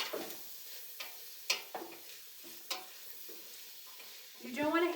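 Onion and potato sizzling in a pan for Zuppa Toscana, a soft steady fry with scattered pops and scraping stirs, faint and close.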